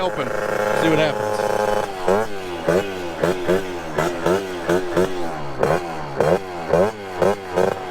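Moped fitted with a big bore kit held at wide open throttle, its engine droning loud and near with rising, wavering pitch that pulses in repeated surges over the whole stretch, with no talk.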